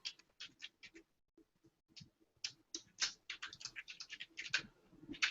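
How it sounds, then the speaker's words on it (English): Fingers typing on a computer keyboard, quiet close-up clicks in uneven bursts with short pauses, speeding into a steady run of keystrokes. "I'm typing this in"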